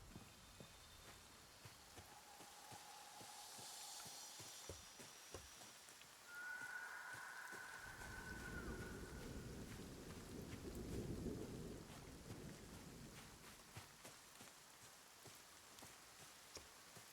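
Video game rain with a thunder rumble: faint steady rainfall throughout, with a low rolling thunder swell building in the middle and fading, under quiet ambient tones.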